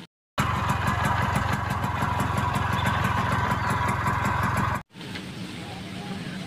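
Engine of a Vespa motor scooter running steadily and loudly for several seconds with a buzzing, pulsing drone, cutting off briefly before a quieter continuation.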